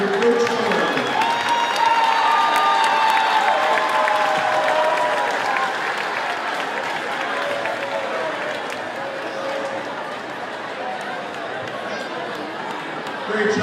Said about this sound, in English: Please join me by giving her a round of applause.